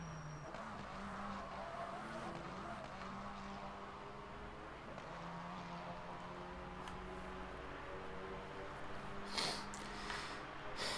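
A race car in a racing video game brakes hard into a corner, its engine note dropping in stepped whines while tires squeal and skid, steady and moderately loud with no talking.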